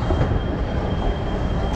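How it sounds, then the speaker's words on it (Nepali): A metro train rolls past on a Danish line, a steady, dense rumble with a thin high whine running through it. It stays loud and constant throughout, with no voices over it. "भर्खरै एउटा मेट्रो चाहिँ सरेर गयो"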